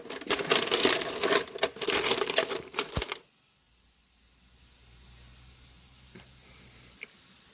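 Metal bolts and nuts rattled and sifted by hand while hunting for a bolt during a Yerf Dog go-kart repair, dense clinking for about three seconds, then near quiet with a few faint clicks.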